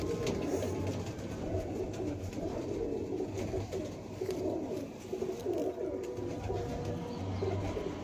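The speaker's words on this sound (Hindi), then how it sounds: "ये बड़ा अच्छा कबूतर है जी लालपरी कबूतर बड़ा शानदार कबूतर है" Lal Pari pigeon cooing at a pigeon fancier's loft, a soft low throaty coo repeating steadily for several seconds amid faint background noise, with no talking.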